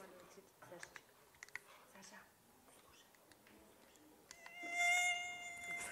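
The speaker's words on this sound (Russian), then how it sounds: "Давайте сначала послушаем комара." A mosquito's high, thin whine rises near the end, steady and fairly close, after a stretch of soft rustling and faint whispery background sounds.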